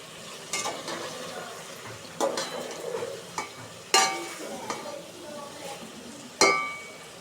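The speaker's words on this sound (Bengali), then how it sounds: "এখন আমি দ্বিতীয়বারের মতো ঢাকনা উঠিয়ে তরকারিটা নাড়াচাড়া দিয়ে নিব যাতে পাত্রের সাথে না লেগে যায়।" Pointed gourd and rui fish curry is stirred in a pot. A spoon gives several sharp metallic clinks and scrapes at irregular intervals over a soft background sizzle nearby.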